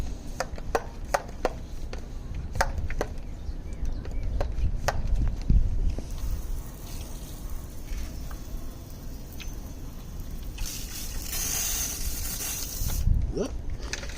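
A small handheld water sprayer used while cleaning a tire gives a broad hissing burst, preceded by several short clicks from its trigger or pump.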